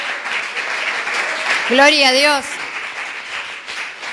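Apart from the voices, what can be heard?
congregation applauding in church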